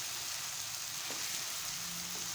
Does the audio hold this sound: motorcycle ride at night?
no